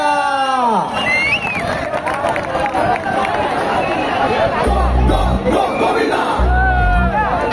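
Loud, dense crowd noise with cheering and shouting at a Dahi Handi festival in Mumbai, marking a women's Govinda troupe, continuous throughout with whistles and voices mixed in.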